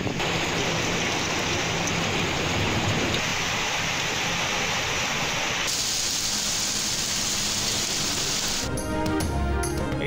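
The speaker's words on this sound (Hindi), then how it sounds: "इस्लामाबाद और पंजाब के मुख्तलिफ शहरों में मूसलाधार बारिश।" Heavy torrential rain pours down steadily in a dense, unbroken roar that fills the whole stretch, with a brief change in texture near the end.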